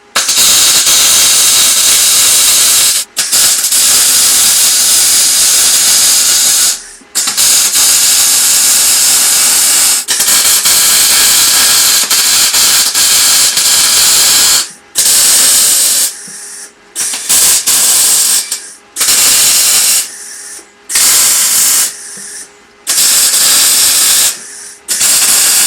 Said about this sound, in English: So I'm going to MIG it in position now.